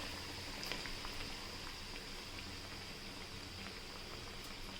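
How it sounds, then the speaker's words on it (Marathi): Batter-dipped bread patties sizzle steadily in hot oil, a dense crackling fry with tiny pops throughout, close and continuous with no talking. "तेलामध्ये आपण आता ब्रेड सोडून घेऊयात"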